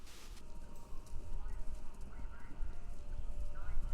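Rhythmic hoofbeats of horses galloping in the video game Kentucky Route Zero, steady and fairly loud against a low rumbling background, with faint voices underneath.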